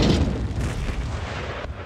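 Artillery fire in the Empire: Total War battle game, a loud booming cannon blast that rolls off into a rumbling decay, with no talking.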